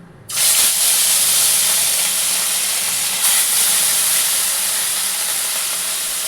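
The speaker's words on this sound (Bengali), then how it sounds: "দেখুন বন্ধুরা, তেলটা গরম হয়ে গেছে। এবার মাছটা আমি এতে আস্তে আস্তে দিয়ে দিচ্ছি।" Bhetki fish pieces hit hot oil with a sudden loud, steady hiss and crackle that stays strong and unbroken to the end, with a brief surge partway through.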